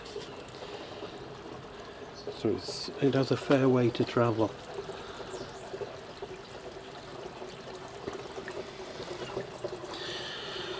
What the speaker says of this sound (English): You see the water going in nice there.